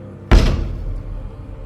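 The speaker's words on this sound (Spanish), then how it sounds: "escuché cómo la puerta se abría de golpe" A door bursts open with a single loud, sudden slam-like impact, followed by a brief low rumbling decay.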